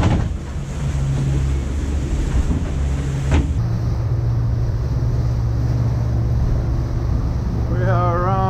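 Strong, gusty wind roars over open sea aboard a Lagoon 42 catamaran in a big Bay of Biscay swell, a steady loud rush with wave wash beneath and a brief voice near the end.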